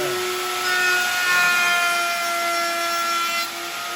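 A router cuts a 3/8-inch radius on the end of a wooden board held against the fence and miter gauge, giving a loud continuous whine with a steady high tonal ring for about four seconds.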